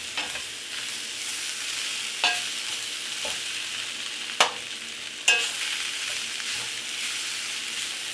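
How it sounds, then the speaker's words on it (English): Mongolian beef and peppers fry in a pan with a steady sizzle, stirred through with a few sharp utensil scrapes and clacks standing out near the close. "Stir it up."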